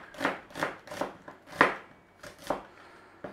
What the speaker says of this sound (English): We just want some sliced onion.